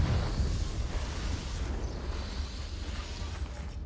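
Confringo blasting spell explosion in the Hogwarts Legacy video game: a dense, rumbling burst with heavy low-end boom that holds loud across the whole span, no voices over it.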